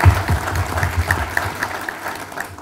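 Audience applause at a gathering, a steady round of clapping from a crowd that starts strong and gradually thins out, with a few distinct claps standing out near the end.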